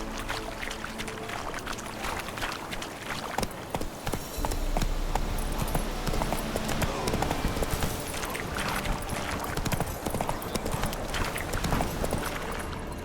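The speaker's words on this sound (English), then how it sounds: "Whoa there, Roach. Faster." A horse gallops in the video game The Witcher 3: Wild Hunt, its hooves beating in a steady, fast, loud rhythm that runs throughout, with outdoor ambience and no talk.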